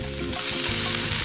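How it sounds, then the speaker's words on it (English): Diced cubes for jjajangmyeon crisp up in a hot pan, a loud, steady sizzle broken by a brief scraping stir near the middle. "I'm gonna keep that in the pan until it gets pretty crispy"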